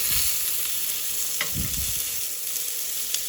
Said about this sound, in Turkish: Sonra şimdi kızartma işlemine geçtim.